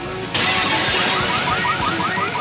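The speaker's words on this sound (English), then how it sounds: "Smashing shops." Glass shatters loudly as a shop window is smashed, a sudden crash followed by a long spray of tinkling, scattering shards with no talk over it.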